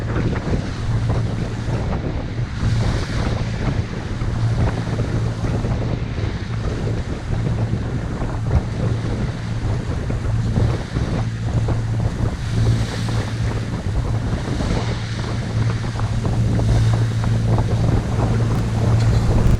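Strong wind of about 15 knots true, 21-22 knots apparent, buffets the microphone while waves rush and slosh against a moving sailboat's hull off Cap Creus, a constant, loud roar with no talking.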